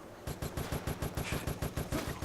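Gunfire in the Resident Evil ORC video game, a rapid automatic burst of about a dozen evenly spaced heavy shots, loud and close, with no talk over it.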